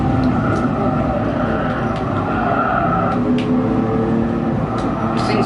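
A Lamborghini Diablo race car in Gran Turismo Sport, run at the Nürburgring during a one-hour endurance race, holds a loud, steady engine drone with tire noise and no pauses.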